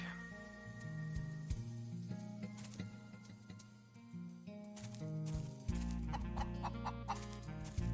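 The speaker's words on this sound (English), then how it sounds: "plenty of decent chickens around here" Chickens cluck in the Wild Arms 3 video game, short repeated clucks mixed into continuous game music with tonal notes, fairly quiet throughout.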